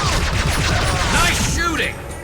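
Gunfire in Mass Effect 2 clatters in dense overlapping volleys under a loud battle din, with voices speaking over it before the shooting fades slightly at the end.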